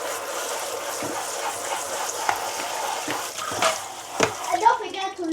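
Water drains from a household bathtub with a steady rushing wash, punctuated by gurgles and sharp splashing clicks that grow busier toward the end.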